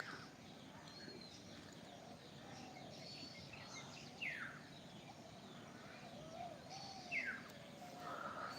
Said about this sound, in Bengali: তো সকালে যে পাখির ডাকটি পাই